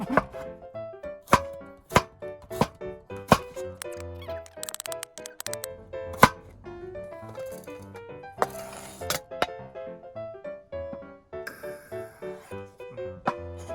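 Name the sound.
slicing mushrooms thinly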